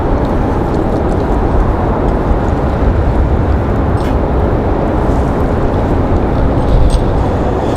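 An Embraer E190 airliner takes off at Raleigh-Durham airport on a windy day, a loud, continuous broadband jet roar with wind buffeting, steady throughout and without talk.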